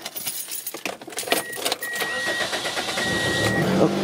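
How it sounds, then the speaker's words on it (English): Keys jingle, then a 2003 Toyota Corolla with a cylinder misfire cranks and starts up close, its engine settling into a steady idle over the last two seconds. "Now let's start the car."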